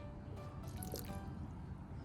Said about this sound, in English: And now I'm going to pop in some water.